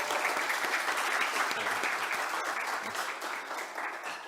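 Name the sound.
audience applause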